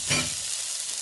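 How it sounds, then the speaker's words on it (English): Crushed garlic and carrot hit hot oil in a pot for Bahamian stew conch, giving a brief loud sizzle burst that settles into a steady close frying hiss. "I'm gonna add just about 1/2 tablespoon of garlic, crushed garlic."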